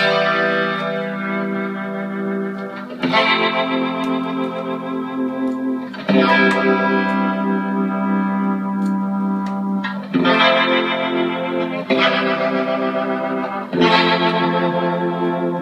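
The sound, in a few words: Leslie rotary speaker effect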